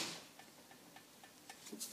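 Worn rear wheel bearing on a 1997 Hyundai Scoupe SFX coupe gives off a faint, light ticking that repeats at a steady, quick rhythm in a quiet setting, with no talking.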